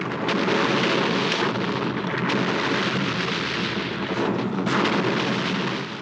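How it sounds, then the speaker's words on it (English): A massive explosion demolishes a factory for a Jackie Chan film stunt, heard as a sustained, dense roaring rumble with crackling bursts, loud and continuous without pause. "The biggest in Asia explosion."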